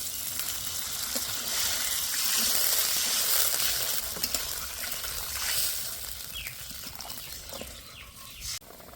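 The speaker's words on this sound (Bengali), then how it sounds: "দিয়ে দেবো জল।" Water poured into a pot of potatoes frying in oil and spices for a Bengali jhinge (ridge gourd) dish with lentil fritters, giving a hissing, sizzling rush that swells and then settles into a steady simmering crackle.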